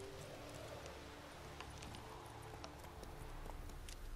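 Faint rhythmic clip-clop of horse hooves in The Witcher 3, steady trotting steps repeating under a low background ambience.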